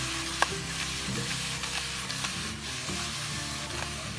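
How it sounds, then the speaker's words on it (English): New York steak and green onion stir-fried in a pan, a steady close sizzle with scraping stirs and a sharp utensil tap near the start, no voices. "After we add in the green onion, stir it for another 30 seconds and remove it from the stove."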